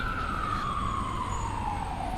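Emergency vehicle siren sweeping past on a New York City street in the East Village, a steady rising-and-falling wail that slowly drops in pitch as it goes by, heard over constant traffic rumble with no voices.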